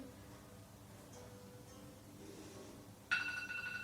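Workout timer alarm during an abs and glutes Pilates session, a sudden electronic ringing tone starting near the end and continuing loud over quiet room noise.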